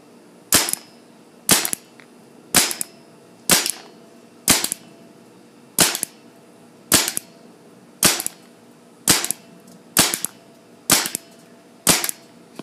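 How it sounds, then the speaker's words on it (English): A Tippmann 98 Custom paintball gun fires about a dozen sharp, loud pops at a steady pace roughly one per second, close by with no talking. "Oh, but just shot 2 paintballs."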